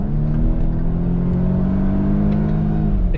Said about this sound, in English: the exhaust starts to kind of scream back there, and you can hear the engine kind of working through it